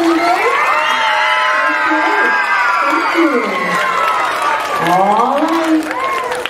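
Elementary school children at a student government swearing-in cheer, shout and whoop loudly together with clapping, a continuous, excited crowd roar with high voices rising and falling.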